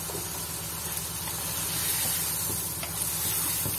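Chickpeas frying with spices and black pepper in a pan for Lahori murgh cholay, giving a steady, close sizzling hiss with faint scraping and no speech over it.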